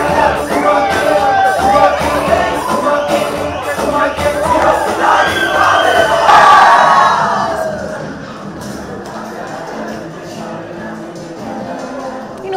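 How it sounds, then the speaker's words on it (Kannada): Fans celebrate India's Champions Trophy cricket win over New Zealand with a loud crowd roar of cheering and shouting that swells to a peak and then thins out. Voices mingle in the din. "ಇಂಡಿಯಾ ಗೆದ್ದು ಬೀಗ್ತಾ ಇದ್ದಂತೆ, ಕಪ್ಗೆ ಮುತ್ತಿಕ್ತಿದ್ದಂತೆ ಅಭಿಮಾನಿಗಳ ಹರ್ಷೋದ್ಗಾರ ಮುಗಿಲು ಮುಟ್ಟಿತು"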